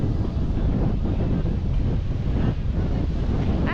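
Rough surf crashes on a windy, rainy beach in Hollywood, Florida, a loud continuous churn of breaking waves heavily buffeted by wind noise.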